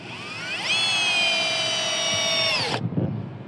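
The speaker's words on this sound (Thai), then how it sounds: "ลองเป็นหัวสว่านนี้ก่อนนะครับ นะนี่น็อตยาวๆเลยนะครับ เจาะนะ" A Masaru SCDI-105 cordless impact drill drives a long screw into thick hardwood: a close, loud whine rises, holds steady for about two seconds, then cuts off sharply.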